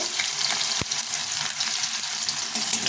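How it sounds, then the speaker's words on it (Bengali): Potatoes fry in hot oil for a vegetarian curry, a constant dense sizzle that stays loud and even throughout, with one brief knock near the start. "তেলটা গরম হয়ে গেছে প্রথমে আমি আলুটাকে ভেজে নেব আলুটাকে লাল ভেজে নেব"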